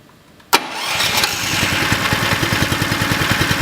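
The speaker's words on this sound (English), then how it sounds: "start the engine and leave it running for about 5 minutes until the gearbox warms up" A Tow and Collect Pro 1500 engine catches with a sharp crank and settles into a steady, loud, pulsing idle that runs on evenly.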